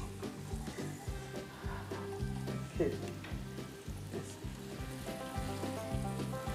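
Carrots sizzle and crackle in hot oil, a close, steady frying hiss with scattered pops and some stirring clatter throughout.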